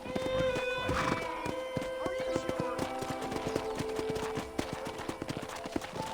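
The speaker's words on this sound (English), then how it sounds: "let's see if you can still ride a horse." Horse hooves clip-clop in rapid rhythm as a rider sets off across a ranch in Red Dead Redemption, with a steady run of hoofbeats, creaking tack and a game soundtrack underneath, while a voice speaks.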